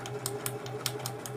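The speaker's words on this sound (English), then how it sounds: "we need to backstitch about 1 inch again." A sewing machine backstitches through fabric in a short, quiet burst of rapid, evenly spaced mechanical clicks over a low motor hum.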